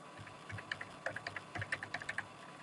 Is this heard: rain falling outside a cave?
no